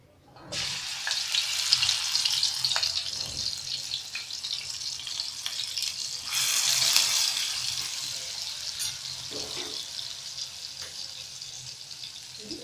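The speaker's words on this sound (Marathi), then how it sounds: "आपण कढईत 2 चमचे तेल टाकलं. आता आपण सर्वप्रथम ही वाटलेली मिरची घालूयात." Ground green chili hitting two spoons of hot oil in a kadhai for palak paneer, a bright steady sizzle that flares loudly at the start and again midway, then settles into continuous close frying with faint stirring clicks.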